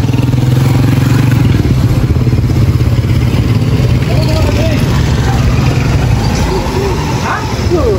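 A motorcycle engine runs close by with a steady low chugging rumble and some clatter, while people talk over it.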